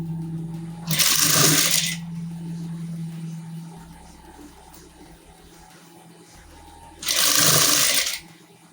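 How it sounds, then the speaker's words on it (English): Sewing machine stitching a puffy bell circle sleeve with a 1/2 inch seam, two loud bursts of steady running about a second each near the start and end, with quiet handling between. "So I'll just start stitching right away."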